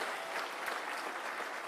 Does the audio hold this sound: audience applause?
yes